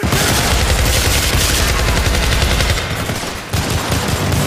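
Dense, loud automatic gunfire from the Syndicate video game, a continuous barrage of rapid shots with booming impacts that runs the whole stretch, dipping briefly before resuming at full intensity.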